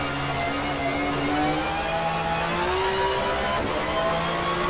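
A touring car's engine in the GTR2 racing game, simulating 1993 Touring Car World Cup racing, drops to second gear: a loud, close, whining engine note falls with the downshift and then climbs as revs rise again.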